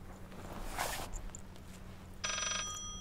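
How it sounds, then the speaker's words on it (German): Telephone ringing inside a dark house in the horror video game Layers of Fear, a quiet bell-like ring that starts late and continues over faint ambient noise with a thump and soft footsteps beforehand. "irgendwann kann ich kein Telefon klingeln mehr hören"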